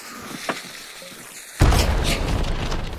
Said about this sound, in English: Throw a grenade up top.